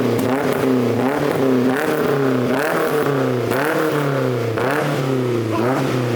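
A Nissan 240SX engine with a new exhaust, running rich and shooting flames, revs repeatedly in surges, rising and falling in pitch with loud rumbling exhaust, close by, with no talking.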